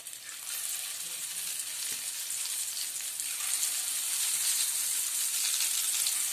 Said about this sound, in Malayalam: ഓയിൽ ഒഴിച്ചു കൊടുക്കാം. ഓരോ വഴുതനയും നമുക്ക് ഇതിലേക്ക് ഇട്ട് കൊടുക്കാം.